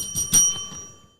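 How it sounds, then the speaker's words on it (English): A small bell, like a bicycle bell, rung twice in quick succession, bright metallic tones ringing out and decaying over about a second. "Ring the bell."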